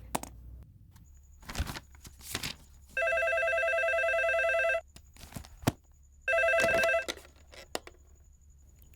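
Two bursts of an electronic telephone ring, each roughly two seconds long and fairly loud, separated by short pauses, with indoor footsteps and handling noises between them.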